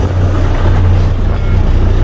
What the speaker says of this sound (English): So let me move my truck down